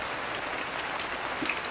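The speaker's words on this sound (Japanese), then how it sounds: "やばいっす、雨が。" Heavy rain pours down on a campground cabin site, with water leaking into the cabin. The downpour makes a dense, steady patter of drops close by, with scattered sharper taps, and nobody speaks.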